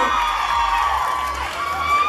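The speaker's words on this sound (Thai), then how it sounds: "ขอเสียงปรบมือ" A large crowd at a fan meet in a Big C Extra store in Chonburi cheers and whoops loudly and continuously, with some clapping mixed into the steady roar.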